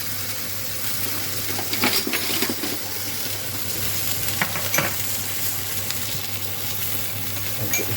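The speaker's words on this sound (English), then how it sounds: "We want to sear it on both sides." Tuna searing in a hot pan gives a steady sizzle and spatter, moderately close, with a few light scrapes and clinks from stirring or handling in the pan.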